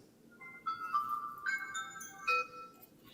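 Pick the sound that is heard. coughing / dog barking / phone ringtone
phone ringtone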